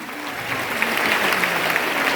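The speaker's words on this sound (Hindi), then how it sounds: "जोरदार ताली होना चाहिए।" An audience claps together for a couple of seconds in a steady, dense wash of applause, fairly loud and close, with no voices over it.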